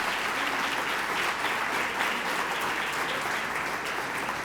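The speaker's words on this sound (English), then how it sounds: "Let's give them a round of applause." An audience at a hall of fame induction ceremony gives a sustained round of applause, broad and even, clapping continuing at a steady level from start to finish.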